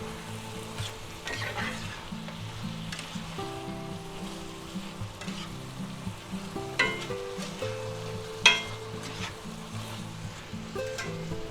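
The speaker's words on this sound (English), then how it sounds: "Stir that around until we get everything mixed up good." Chicken and broccoli stir fry with spicy soy sauce being stirred in a hot pan, steady sizzling with repeated scraping and clacking of the utensil against the pan, close and alone.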